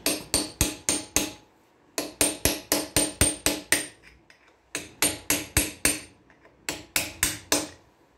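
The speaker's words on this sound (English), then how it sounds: "Just using a hammer and a chisel to fold the top tab over." Rapid metallic hammer strikes on a chisel folding over a lock tab on a Land Rover Series 2a front axle, close and loud, in bursts of about five or six blows separated by short pauses.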